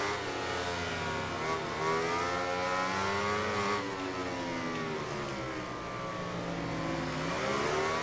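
Racing motorcycles from the MotoGP 19 video game, including a Ducati and a Suzuki, scream at high revs down a back straight, a loud, continuous engine whine with rising and falling gear pitches throughout.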